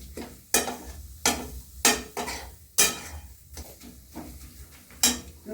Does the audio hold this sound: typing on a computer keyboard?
no